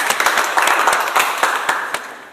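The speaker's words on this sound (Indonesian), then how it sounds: "Oke, beri aplaus untuk Cynthia." A classroom group applauds a student, with brisk scattered clapping that is near and fairly loud and tails off after about two seconds.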